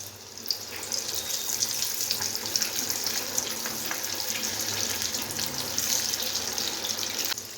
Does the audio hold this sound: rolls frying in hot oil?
yes